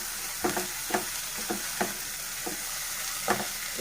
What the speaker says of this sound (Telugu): ఇది కూడా పచ్చి వాసన పోయేంత వరకు బాగా వేయించుకోవాలి.